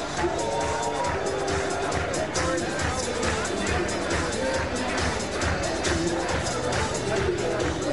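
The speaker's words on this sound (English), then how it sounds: "Take a listen as the crowd prepares for him to take the stage here" A Michigan political crowd murmurs and chatters as it waits for a gubernatorial candidate to take the stage, a steady babble of many voices with scattered cheers.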